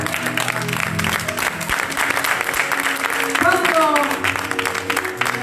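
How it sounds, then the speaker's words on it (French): A church congregation at a bilingual Italian-French worship seminar claps and cheers in praise of God, a dense, sustained wash of applause filling the whole stretch, with a voice or music line rising briefly near the end. "Un applauso a Dio. Acclamons le Seigneur."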